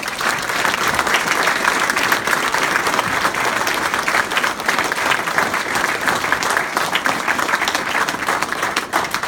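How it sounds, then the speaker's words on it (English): Audience applauding for a campaign team member at a congressional campaign event, dense and steady clapping from a crowd that sustains evenly for about nine seconds with no break. "I want everyone to give Lauren a big applause."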